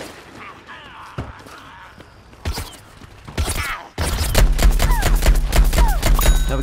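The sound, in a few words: weapon fire in Plants vs Zombies Garden Warfare video game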